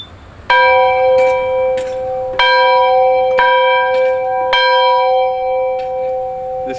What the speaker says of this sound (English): This is the original school bell from 1898.